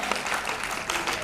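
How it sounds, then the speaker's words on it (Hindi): Loud, dense applause from the audience at a state-level Sanskrit talent competition in Lucknow, a close, steady burst of many hands clapping. "तो इतनी सुंदर, इतनी मधुर प्रस्तुति के लिए जोरदार तालियां तो बनती हैं।"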